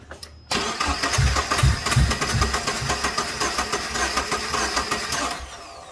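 A twin-turbo 2.0-litre Subaru Legacy engine cranks over on the starter during a compression test, a steady rhythmic chugging of about eight or nine compression pulses, close and continuous with no voices.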